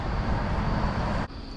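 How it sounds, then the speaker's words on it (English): Continuous loud highway traffic roar heard from a billboard platform beside the road, a steady broadband rumble that dips abruptly near the end as the sound cuts off, no talking. "The traffic behind me is super loud."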